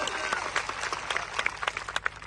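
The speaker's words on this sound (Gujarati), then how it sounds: "એમના માટે જોરદાર તાળીઓ પાડી લો" Crowd at a Gujarati political rally applauding police officers, a scattered burst of many hands clapping with distinct sharp claps standing out, fairly close and without speech.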